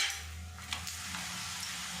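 Paratha made with mung dal sizzling in a little oil in a pan, a soft steady fry hiss with a few faint clicks of stirring, quiet and close.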